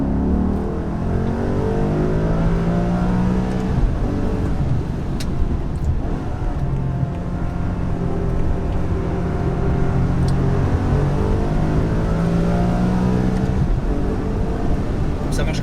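A V8 car accelerates from inside the cabin with the window open, its engine droning loudly and climbing in pitch through several gears in a steady, linear pull.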